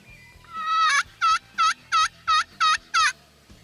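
A wild turkey gobbles in the woods near a stream, six or seven rapid, loud rattling bursts in quick even succession, fairly close and clear with no talk over it.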